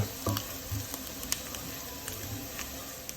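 'Nduja sizzles in a pan with a steady, close frying hiss, broken by faint pops and a few soft stirring clicks.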